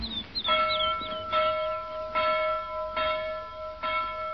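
A town hall bell rings out over a green hill on a spring morning, about five evenly spaced strikes each leaving a long bright hum that fades into the next, with faint birdsong early on.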